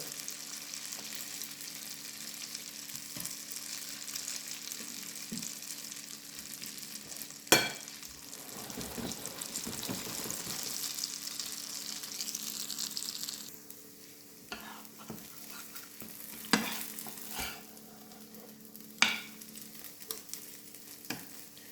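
Vegetarian and non-vegetarian galettes fry in a pan over medium heat, giving a steady close sizzle that thins out midway, with a few sharp clicks and taps of a utensil against the pan.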